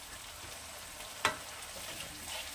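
Spiced yogurt mixture with salt, turmeric, chili powder and sugar splashing into a hot pan for Bengali methi katla fish curry, one sharp pour burst over a steady background sizzle.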